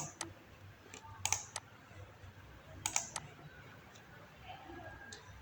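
A computer keyboard being typed on at a Spark command prompt gives sparse, close key clicks in small uneven clusters over a quiet room hum, with no talking.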